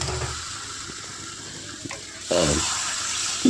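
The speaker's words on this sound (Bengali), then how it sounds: "তো আমি ঝোলের জন্য জলটা ঢেলে দিয়ে ভালো করে আবারও মিক্স করে দিলাম সবজিটাকে" Water poured into a hot pan of potato curry to make gravy, a steady sizzle and splash that grows louder and fuller partway through, close up, with no talk.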